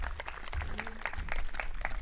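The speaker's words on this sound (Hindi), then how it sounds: "एक बार दोनों के लिए ताली बजा दो बहन के लिए" A yoga session audience claps for two sisters in a short burst of steady, dense applause, with faint voices mixed in.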